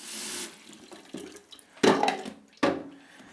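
Water runs and splashes during the first rinse of developed film, with short bursts from a tap and two louder gushes of pouring water, close by and without any talking.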